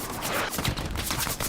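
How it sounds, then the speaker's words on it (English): Dense, continuous gunfire in the World War II shooter Hell Let Loose, with overlapping rifle and machine-gun bursts crackling loudly and steadily throughout a chaotic battle. "Oh, he gets gunned down."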